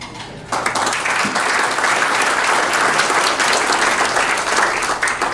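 Audience at a bankruptcy professionals memorial dinner applauding a sitting judge, bursting in suddenly after a quiet moment and continuing as steady, full clapping from the room.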